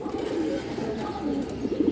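A young pigeon gives a low, continuous throaty coo that wavers gently, heard close and fairly loud with no voices over it.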